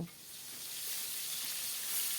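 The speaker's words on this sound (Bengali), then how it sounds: "এইভাবে দু পিঠ আমি ভেজে নেব" Koi fish sizzle in hot oil in a pan, a continuous close frying hiss that swells slightly over a couple of seconds, without talk.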